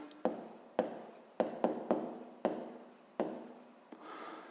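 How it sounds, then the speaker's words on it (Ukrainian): A pen or chalk writes out the answer to a fifth-grade math exercise, with a series of distinct scratchy strokes and taps, each starting sharply and fading, close and fairly quiet. "Отже, записуємо тоді перший варіант."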